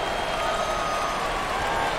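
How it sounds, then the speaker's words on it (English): Arena crowd noise from a college basketball video game, Seton Hall Pirates against Creighton Bluejays, a steady roar of cheering and applause that holds at a loud, even level with no pauses. "The crowd is completely behind their team."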